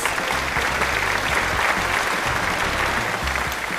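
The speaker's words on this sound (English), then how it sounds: "Let's all give him a round of applause." A studio audience applauds to welcome a guest, Mr. Juan de Plasencia, with steady dense clapping that holds evenly for a few seconds without voices, backed by a low musical hum.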